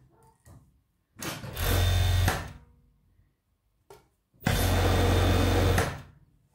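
An overlock sewing machine stitches the underarm seams of a knit sweater, running in two loud, steady whirring bursts of about a second and a half each, with short pauses and light handling noises between them, close by.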